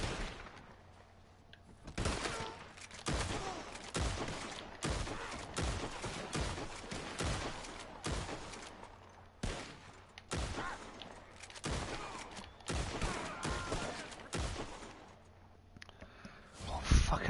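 Repeated gunfire in Red Dead Online, a rapid fusillade of sharp shots in bursts across the whole stretch, loud and close, with brief gaps between volleys.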